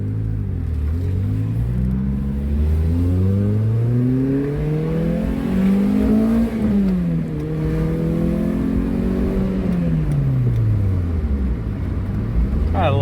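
A Pontiac Vibe GT hatchback engine with 255,755 miles revs up and down repeatedly, pitch rising and falling over a steady idle, loud and close, with speech mixed in.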